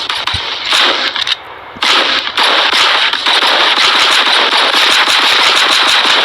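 Sustained rapid gunfire in a Fortnite-style shooter game, long loud bursts of automatic fire crackling continuously with only a brief pause near the start, close and dense.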